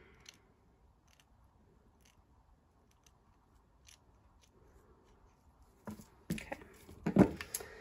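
Scissors snip and trim paper for a handmade stamped floral card, quiet at first with a few faint cuts, then a cluster of sharp, close snipping clicks near the end.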